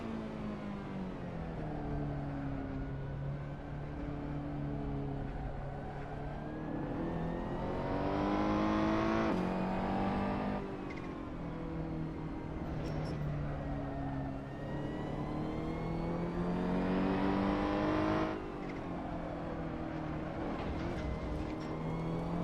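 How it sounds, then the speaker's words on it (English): A race car engine in a racing video game holds a steady, loud drone, rising in pitch under acceleration and falling back at shifts and braking, with no voices. "Pushing the car a little bit there, because skidding around the corner a little bit there."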